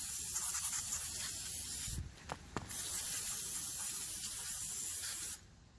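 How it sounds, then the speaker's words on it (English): Brake cleaner sprayed from an aerosol can onto the rear brakes of a 2013 Ford Focus, making a loud, close, continuous hiss that breaks off briefly in the middle, resumes, then cuts out near the end. "Spray with some brake cleaner."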